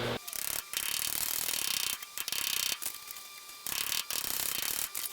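Sheet metal edge being folded over by hand during bodywork on a 1986 project car, giving a run of close, clanking metallic bends and creaks with short pauses between bursts, no talking.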